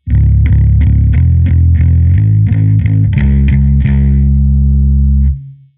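Distorted bass guitar churns through riff 4 of a doom track: a loud, close string of chugging low notes, then a final sustained note that rings out and cuts off.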